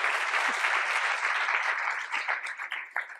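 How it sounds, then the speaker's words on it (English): Audience applause in a hall during an anniversary review event, a dense burst of clapping that thins into scattered claps and fades near the end. "You can applaud."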